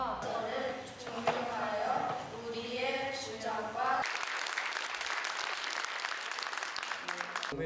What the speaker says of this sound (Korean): 33인의 이름을 불러 큰 박수를 받았습니다